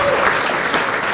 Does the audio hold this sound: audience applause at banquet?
yes